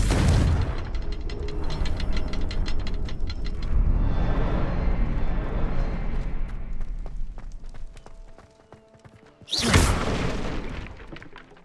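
Confringo fire spell bursts in Hogwarts Legacy, a dense rumbling explosion with crackling debris lasting several seconds, fading into a quieter stretch before a second loud blast erupts near the end.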